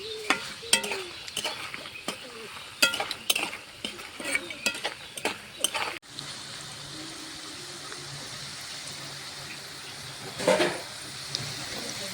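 Peanut pakoras frying in hot oil, first amid busy clinks and stirring scrapes of a spatula against the pan, then settling into a steady, close, even sizzle with one brief louder burst near the end; no talking.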